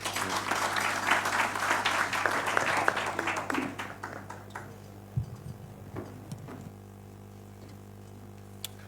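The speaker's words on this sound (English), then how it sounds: "Another round of applause for the Honorable Paoli Omondi." Audience applause at a political gathering in Kenya, a dense clapping wash for about four seconds that thins into scattered claps and fades out, with a steady low hum underneath.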